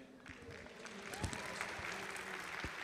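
An audience applauding after a song performance at a children's song contest opening, a dense, steady wash of clapping that holds at moderate level for the whole stretch with no voices over it.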